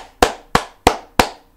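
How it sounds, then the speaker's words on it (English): Four sharp hand claps ring out close and loud at an even, unhurried pace, each with a quick bright snap and a short decay, with nothing else heard between them. "Can you clap it?"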